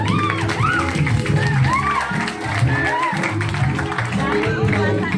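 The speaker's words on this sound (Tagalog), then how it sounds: "Palakpak naman po dyan." Crowd applause and cheering for a baby girl at her first birthday party, dense clapping continuing steadily with voices talking over it throughout.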